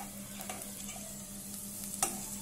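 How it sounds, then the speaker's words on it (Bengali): Chopped onion and garlic fry in a pan with a steady low sizzle and occasional light stirring scrapes and clinks, close and continuous, without speech. "এই যে পেঁয়াজের কুচি এবং রসুনের যে কুচি ছিল সেগুলোকে আমরা ভালোভাবে ভেজে নেব।"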